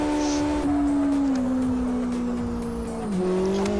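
A car engine in the racing game Live for Speed drones at steady high revs, pitch sliding gently down and back up, with no speech over it.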